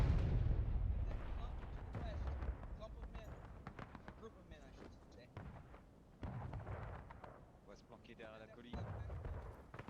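Distant artillery fire booms repeatedly across a War of Rights American Civil War battle on the Smokestacks map, dull low thumps rising and falling over a steady battlefield din, with people talking throughout.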